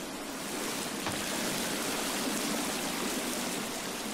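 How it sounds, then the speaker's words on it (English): A steady, loud rush of falling water from a waterfall in the video game The Forest fills the whole stretch, a constant roaring wash with no pauses or voices. "I can't hear you over the waterfall."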